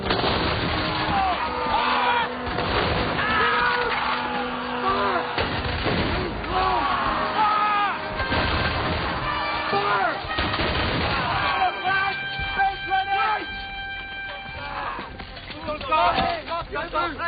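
Period musket volleys in a Napoleonic-era battle scene, booming shots mixed among shouted commands and dramatic orchestral music, loud and continuous with voices calling out over the firing.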